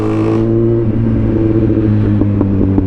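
A 2022 Kawasaki Z900's inline-four exhaust drones loudly while riding, a steady, close engine hum with rumbling harmonics and a few small revving surges, with no voices.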